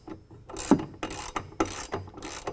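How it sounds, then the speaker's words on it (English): Ratchet wrench tightening the pinch weld bolt on a running board bracket, several bursts of quick clicking strokes with short pauses between them, close up and with no talking. "and then I'm going to tighten down the pinch weld bolt."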